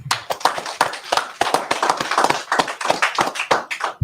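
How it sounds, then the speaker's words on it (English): Hands clapping at a church holy-day gathering, loud close irregular claps in quick succession with no talk. "let's clap it up"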